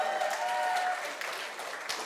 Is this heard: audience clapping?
yes